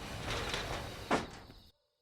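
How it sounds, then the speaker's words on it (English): A sliding door from the 2016 anime film Your Name rolls along smoothly with a soft swish, ending in a light knock as it closes, fairly quiet before sudden silence. "I do love those sliding door transitions."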